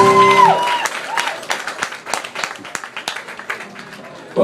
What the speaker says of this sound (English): give a huge round of applause for our lovely morning cruise crew, Bill, Carmen, and Dave.